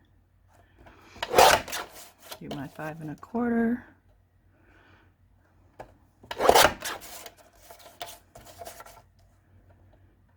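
Two sharp, raspy slicing strokes from a paper trimmer cutting card, separated by a brief spoken phrase, with quiet handling sounds between.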